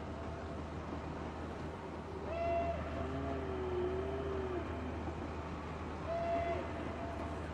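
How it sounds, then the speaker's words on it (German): Horn blasts in a German-played horror video game: a sustained wavering honk followed by a shorter toot, rising over a steady low background rumble. "Achso, das soll so eine Hupe sein."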